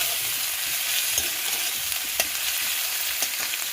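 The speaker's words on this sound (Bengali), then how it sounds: "আমি ভালো করে পেঁয়াজটাকে তেলের সঙ্গে মিশিয়ে ভেজে নেব" Onion and ginger paste fries in hot oil with a steady, dense sizzle while being stirred, a few soft scrapes and taps of the spatula rising briefly above the hiss; close and continuous, no voices.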